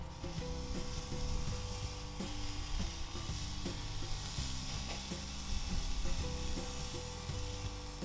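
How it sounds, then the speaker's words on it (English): American Wagyu steak with a thick fat cap searing on a Weber kettle grill, a constant crackling sizzle close by with faint tapping and scraping over a low background hum. "Just let that bad boy sizzle like that."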